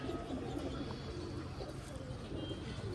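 Soft, low pigeon coos murmur continuously against a faint background hum, steady and unhurried, from pigeons on a rooftop in Islamabad.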